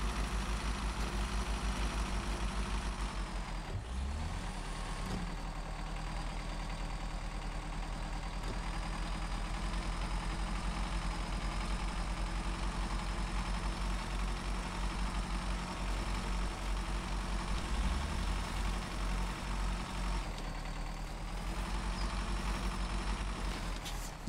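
Heavy truck engine idling in the SnowRunner off-road driving game, a steady low diesel rumble that holds close and loud for the whole stretch with small shifts in tone, no talking over it.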